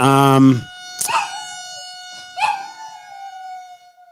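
A school siren across the street gives a sustained tonal wail that rises and holds, while a nearby dog answers with a couple of howling cries. A loud vocal burst sits at the very start.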